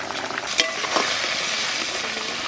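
Turmeric and chillies frying in a pan give a short burst of close, bubbling sizzle with a couple of sharper pops, lasting only a moment.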